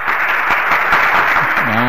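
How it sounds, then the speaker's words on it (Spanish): A studio audience on a Sunday variety show bursts into a short round of applause, a dense, close patter of clapping lasting under two seconds, with a voice starting up at the end. "Ahí se aplauden, ¿no?"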